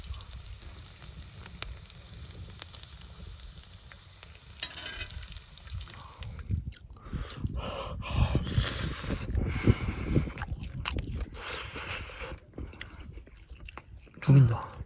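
Ramen noodles eaten at a campsite beside a fire: close slurping and chewing noises against a low fire crackle, with people talking over it.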